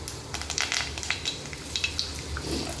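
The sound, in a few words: curry leaves sizzling in hot oil with mustard seeds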